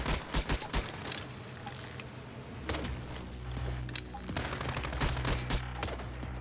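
Video game battle gunfire: rapid bursts of automatic shots and scattered single cracks, loud and close, keeping up without pause under game noise.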